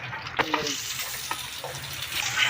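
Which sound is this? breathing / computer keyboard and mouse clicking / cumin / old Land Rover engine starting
cumin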